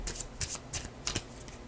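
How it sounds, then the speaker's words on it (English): A deck of tarot cards is shuffled in several quick bursts of riffling and slapping, close up and crisp, with short pauses between them. "I'm just going to shuffle, cut the deck"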